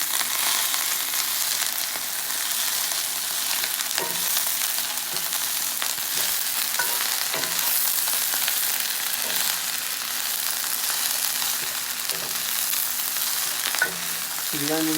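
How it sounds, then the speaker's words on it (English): Onions frying and browning in a pan while vegan pizza is being made, a steady close sizzle with occasional scrapes and clicks of stirring throughout. "So the onion's kind of getting a nice brown."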